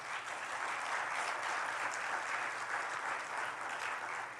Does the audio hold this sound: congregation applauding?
yes